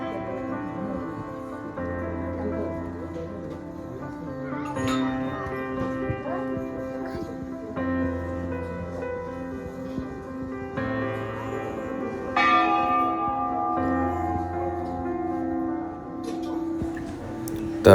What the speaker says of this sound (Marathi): घंटा वाजवतीये